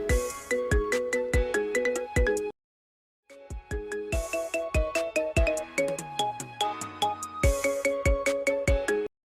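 A phone rings with an incoming call, a bright melodic ringtone playing loud and alone in repeating bursts, with one short silent gap before the tune starts up again.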